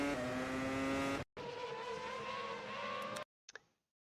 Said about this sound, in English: listening to the throttle application of the UI is irritating AF